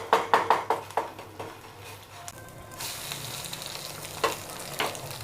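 Vegetables fry in a pan seasoned with salt and pepper, a steady close sizzle and hiss broken by a run of sharp stirring clacks at the start and a few later scrapes.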